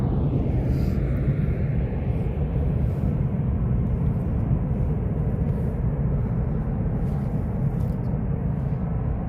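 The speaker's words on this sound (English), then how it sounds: "The next one is another EasyJet, another 320, and this one's off to Barcelona." An EasyJet Airbus A320 airliner bound for Barcelona at Manchester Airport sends out a loud, steady broadband jet roar with a deep rumble that holds without letting up.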